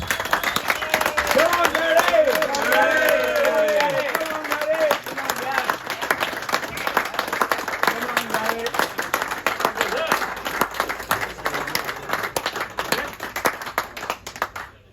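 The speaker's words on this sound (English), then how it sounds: "Put your hands together and give a massive round of applause" A crowd at a football club kit launch and meet-the-players event applauds Gary Pearce with sustained, dense clapping lasting the full stretch, with voices and cheers mixed in at the start before easing off.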